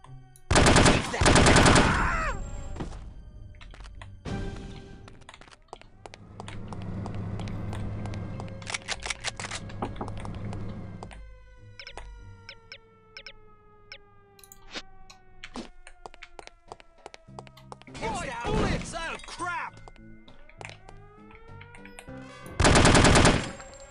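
Gunfire from the video game No One Lives Forever comes in loud, sharp bursts at the start, again late, and once more at the end, with quieter tonal game sounds in between.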